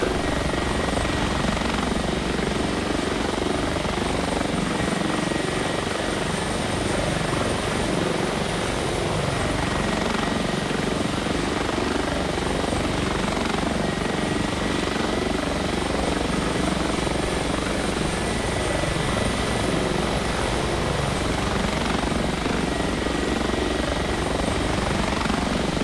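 An Airbus H145 helicopter in the X-Plane 11 flight simulator drones continuously with a dense, steady rotor and turbine roar, loud and unbroken throughout with no talk.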